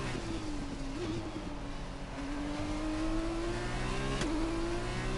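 An AI-controlled race car accelerates in a racing video game, its engine note rising steadily and buzzing loud and close, with a brief gear-change dip near the end.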